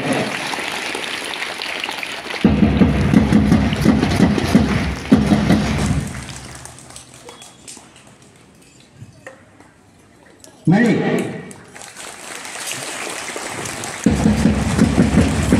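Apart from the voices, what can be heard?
schoolchildren clapping loudly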